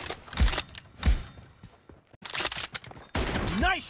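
Sniper rifle shots and gunfire bursts in a PUBG Battlegrounds match, several loud sharp reports in quick succession separated by short gaps, with louder gunfire returning near the end.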